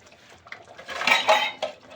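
A spoon stirs chicken curry in a metal cooking pot with a few clinks and scrapes that grow louder in the middle. The sound is close by and there is no talking.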